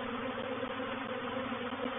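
Honeybee swarm moving into a hive box on a scale, a steady, dense buzzing drone that holds evenly and continuously throughout, close and moderately loud with no talk.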